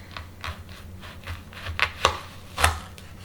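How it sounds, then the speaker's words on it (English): A knife cuts a red onion in half on a cutting board with a handful of sharp, irregular chops and taps, close and distinct, the last few strikes loudest. "I am only going to be using half of this red onion, so I'm just going to cut it in half"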